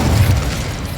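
A fire spell cast in Hogwarts Legacy, heard as a loud, sustained low whooshing roar lasting about a second, dense and steady without a sharp attack.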